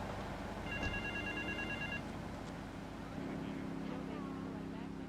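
A telephone rings in Grand Theft Auto III, a short electronic ring burst heard faintly under game ambience, engine hum and a low rumble, with voices talking.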